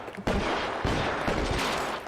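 Gunfire in L.A. Noire, a loud volley of shots with sharp cracks at intervals over a steady background din, close and forceful.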